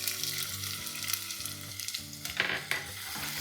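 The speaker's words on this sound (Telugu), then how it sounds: "నూనె వేడెక్కిన తర్వాత ఇందులో ఉల్లిపాయలు వేసుకున్నాం" Chopped onions crackle and sizzle in hot oil in a pan on a stove, a dense steady frying hiss with occasional stirring scrapes, close up and with no voices.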